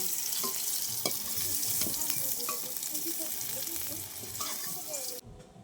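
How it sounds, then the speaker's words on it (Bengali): Potatoes fry in oil with a steady crackling sizzle while a utensil stirs them, scraping and clinking against the pan at irregular intervals before the sound cuts off abruptly. "আলুটা আমার লাল লাল করে ভাজা হয়ে গেছে"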